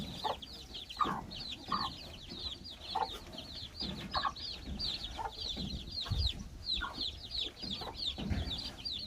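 A mother hen raising her chicks clucks repeatedly in short bursts at a Thai cattle farm, with higher chirps layered over the clucks and faint rustling in the background.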